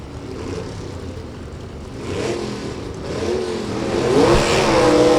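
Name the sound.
drag race cars, 4-speed Chevy 2 and 92 Dodge Daytona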